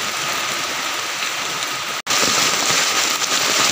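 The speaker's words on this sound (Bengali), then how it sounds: "কিন্তু এত জোর বৃষ্টি হচ্ছে।" Heavy rain pours steadily over a home courtyard, a dense, loud hiss of drops that fills the whole stretch, broken only by a split-second dropout just past the midpoint before the downpour resumes at full strength.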